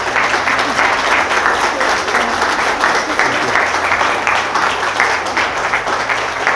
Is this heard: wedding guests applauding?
yes